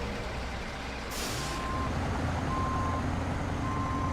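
Truck in the RoadCraft video game with a sharp air-brake hiss, then repeated reversing beeps in evenly spaced bursts over a steady low engine drone.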